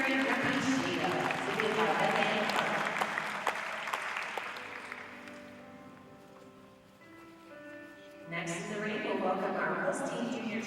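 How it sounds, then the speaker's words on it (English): A crowd applauds a junior champion Guernsey dairy cow at a livestock show: sustained clapping under an announcer's amplified voice, tapering off midway and then rising again. "Let's have a round of applause for our junior champion Guernsey"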